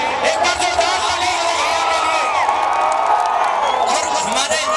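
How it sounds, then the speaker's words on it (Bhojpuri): A large crowd at an outdoor Bhojpuri stage show at the Gadhha Mahotsav festival claps, cheers and whoops loudly and continuously, a dense roar of voices with shouts rising above it. "एक बार जोरदार ताली"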